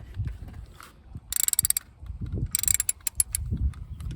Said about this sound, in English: It's kind of tight, so I'm using kind of a long ratchet just to start here.